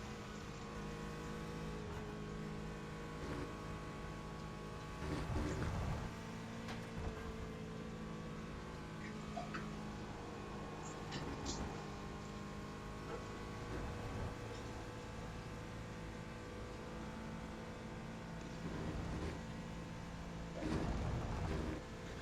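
Race car engine in a sim racing game at Virginia International Raceway, driven slowly at the limit of grip, with a steady droning tone, occasional louder revving swells and faint tire noise underneath.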